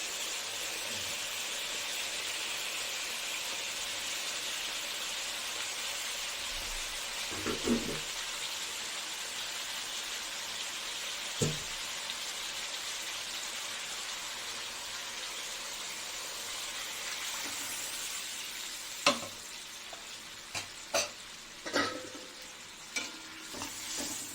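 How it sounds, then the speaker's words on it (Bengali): Water goes into a fried-down soybean curry masala in a pan. A soft, steady hiss runs throughout, and several sharp clinks of a utensil come near the end, with no voices. "মশলাটা আমার পুরো কষানো হয়ে গেছে এ দিয়ে দেবো সব ঝোলের জন্য যত দরকার জল দিয়ে দেবো"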